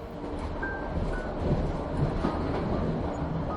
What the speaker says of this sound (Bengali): অমৃতলাল ট্রেনে চেপে বসেছেন বেশ অনেকক্ষণ হয়েছে।